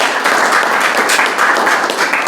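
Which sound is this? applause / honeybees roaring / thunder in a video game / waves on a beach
applause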